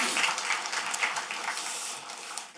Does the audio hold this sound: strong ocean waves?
no